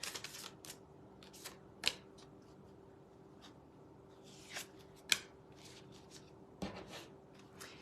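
Reading cards being shuffled and pulled from a deck: soft, quiet rustles and a few sharp snaps spaced a couple of seconds apart, close by in a still room.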